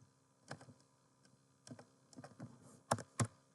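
Sparse bursts of typing on a computer keyboard while entering a webmail address, with quiet gaps between clusters of keystrokes and two louder final taps.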